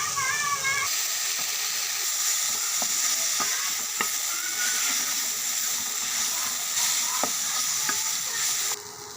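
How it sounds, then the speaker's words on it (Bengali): Jute leaves frying and being stirred in a pan, with a steady close sizzle and scattered scraping clicks of the spoon throughout, no talk. "এখন একটু ভেজে নেব।"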